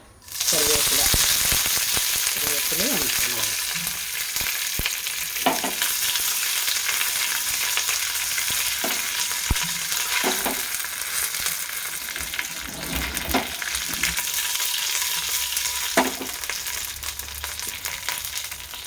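Mustard seeds popping in hot oil for a tempering of roasted-coconut sambar: a loud, steady sizzle runs throughout, broken by scattered sharp pops and crackles. No one speaks.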